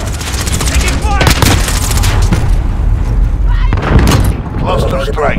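Heavy gunfire in Call of Duty: Modern Warfare (2019) team deathmatch, loud cracks and rattling bursts with booming impacts, interspersed with game voice callouts.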